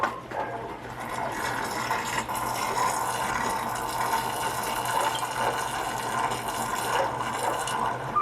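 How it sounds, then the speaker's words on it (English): Running water fills a planted aquarium tank during a water change, a steady close gush with a low hum of a pump or tap underneath and no pauses. "then we'll begin with the water changes"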